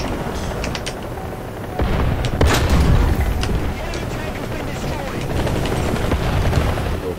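A Leopard 2K tank fires its main gun in the War Thunder video game, giving a loud, booming blast that rolls into a rumbling tail over steady engine and battle noise.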